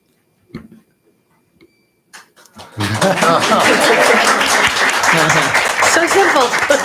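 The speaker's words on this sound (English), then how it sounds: "one comment, he gets an applause" Applause breaks out in a room at a school board meeting after a comment, many hands clapping loudly and steadily; a few faint sounds come first.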